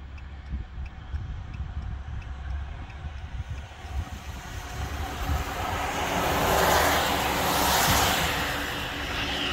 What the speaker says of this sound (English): About every 2 minutes or so, a plane's landing here.